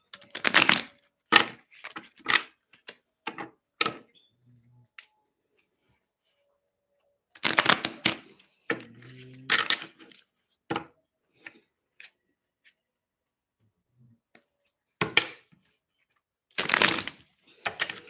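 Tarot cards being shuffled on a table, bursts of crisp riffling and slapping that come in clusters separated by quiet pauses, close and fairly loud, without talking.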